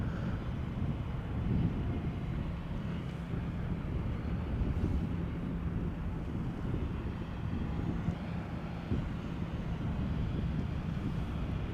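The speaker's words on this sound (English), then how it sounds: "KLM flight 1072 arriving from Manchester, 737-800, 23 years old" A 23-year-old KLM Boeing 737-800 arrives at Amsterdam Schiphol Airport, a steady low broadband roar holding at even loudness throughout, mixed with wind buffeting on the microphone and no voices.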